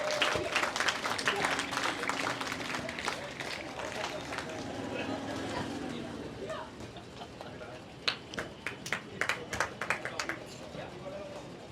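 Audience and scouts clapping at an Independence Day celebration, dense applause at first that thins into scattered, spaced claps, with voices talking over it.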